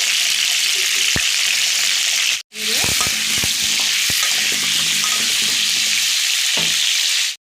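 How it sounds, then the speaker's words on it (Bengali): Small potatoes fry with salt in hot oil for a vegetarian potato and pea dish, giving a loud, dense, continuous sizzle up close that breaks off briefly before resuming, with occasional spatula knocks. "ভালো করে এবার আমি দিয়ে একটু লাল লাল করে ভেজে নেবো।"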